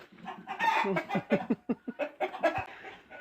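Chickens cluck in a rapid series of short, fairly loud calls, with a few overlapping birds nearby and no talking.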